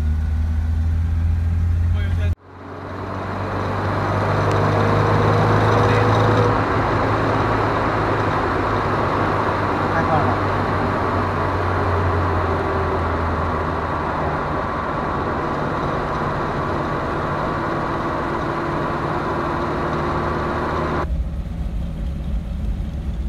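A Morris Minor's engine runs steadily from inside the car while a friend drives it, a continuous mid-level drone with a louder low rumble in the opening seconds and a brief break near the start.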